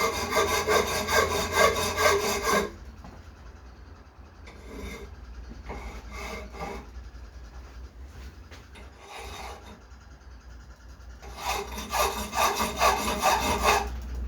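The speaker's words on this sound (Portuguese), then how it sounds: "Deixa a lima correr reta" A hand file rasps across a welded aluminum cylinder head from a 1.6 engine, loud rhythmic back-and-forth strokes in bursts at the start and end, with quieter scraping between.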